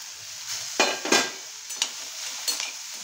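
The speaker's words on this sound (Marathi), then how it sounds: "2 मिनिटं आपल्याला मिरच्या शिजवून घ्यायचं आहे. मध्ये मध्ये ढवळत राहायचं, नाहीतर मिरच्या खाली लागू शकतात." Green chillies frying in a covered pan for besan mirchi, with a low sizzle broken by several short, sharp bursts of stirring and clattering against the pan, close and with no voices.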